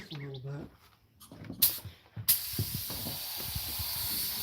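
A paint spray gun hisses while applying a two-tone finish along the body line of a 1988 Suburban, with two sharp bursts followed by a sustained steady spray after someone briefly talks.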